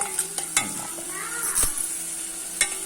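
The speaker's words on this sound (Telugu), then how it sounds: "ఇది పచ్చివాసన పోయేంత మటుకు వేయించుకోవాలి" Ginger garlic paste fries in a pan for a curry, sizzling steadily near by while a spoon stirs and scrapes the pan with a few sharp clinks.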